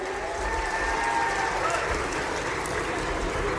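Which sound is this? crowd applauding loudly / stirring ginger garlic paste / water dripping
crowd applauding loudly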